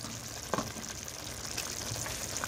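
Beef keema with crushed chillies, cumin and dried coriander frying in a karahi, giving a steady low sizzle with a couple of soft stirring scrapes, fairly quiet and close.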